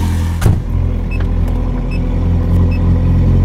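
Ferrari 430 Scuderia with a modified exhaust, already running after start-up, idling with a loud, steady, deep engine rumble heard close up, and a brief sharp burst near the start.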